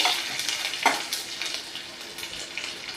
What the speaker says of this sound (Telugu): మినప్పప్పు ఒక స్పూన్ ఆవాలు జీలకర్ర కొంచెం వేయించుకోవాలి